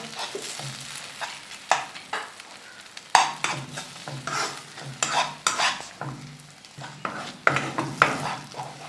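Chopped egg pieces fry on low flame in a pan while being stirred, producing repeated bursts of scraping and light sizzle, close up and without speech.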